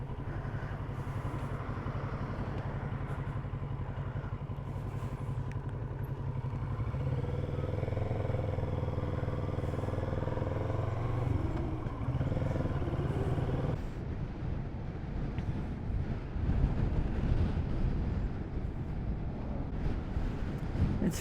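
A motorbike rides through strong wind, with heavy buffeting wind roar on the microphone and a steady low engine drone throughout, the wind noise shifting and thickening partway through.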